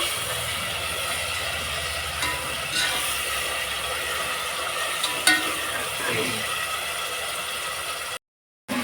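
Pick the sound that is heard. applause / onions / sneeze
onions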